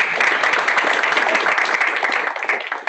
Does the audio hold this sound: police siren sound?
no